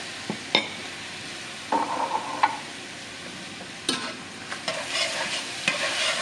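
Ground beef and diced green chilies being stirred and mixed in a pan, with scattered scraping strokes of a utensil over a steady soft sizzle, loud and close with no voices.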